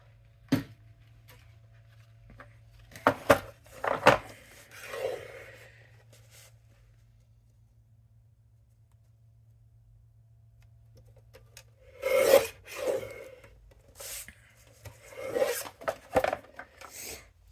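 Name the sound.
cutting card with a small paper guillotine trimmer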